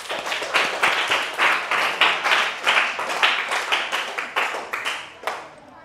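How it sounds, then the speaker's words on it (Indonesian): Classmates clap for their class leader in a classroom lesson, a steady run of close hand claps with a loose rhythm that tapers off near the end. "Oke, tepuk tangan untuk ketua kelas."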